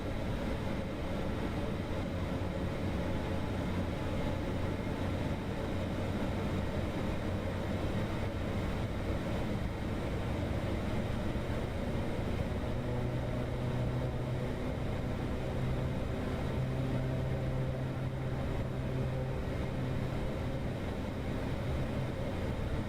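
A Piper M500 turboprop runs up its engine to 1900 RPM in MSFS 2024, producing a steady, loud, unbroken droning roar with a faint tonal whine that shifts slightly partway through.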